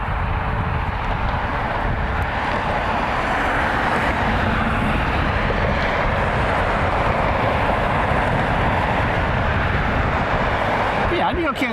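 A United airliner on final approach to runway 24 right at Cleveland Hopkins gives a steady, loud jet roar that holds throughout. A voice talks over it.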